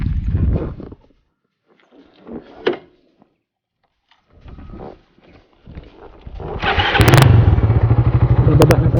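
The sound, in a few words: motorcycle riding uphill on mountain trail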